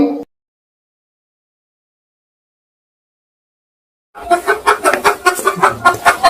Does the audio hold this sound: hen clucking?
yes